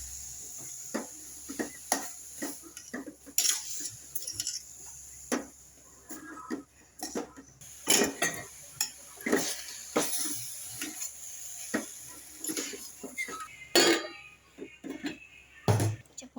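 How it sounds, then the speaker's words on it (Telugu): Carrots frying in ghee in a pan while being stirred, giving a steady soft sizzle broken by frequent sharp scraping clicks from the spoon, close and fairly quiet with no speech. "నేను ఒకసారి మిక్సింగ్ చేద్దాం."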